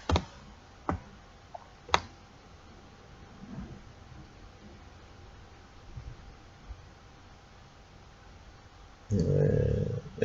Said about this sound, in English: Let's click all of them and see.